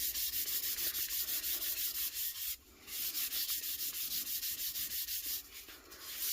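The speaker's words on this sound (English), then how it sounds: "And I'm just going to start burnishing this down." Gloved hands rub and burnish chameleon mica powder onto an epoxy-coated tumbler, a close, steady scratchy rubbing in rhythmic strokes with a brief pause midway.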